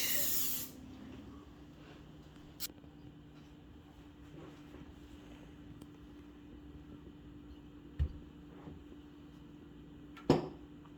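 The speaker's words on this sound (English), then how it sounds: "put Pam on our cookie sheet" Pam cooking spray misted onto a cookie sheet in a single short, bright hiss at the start, followed by a quiet kitchen with a few faint clicks and knocks.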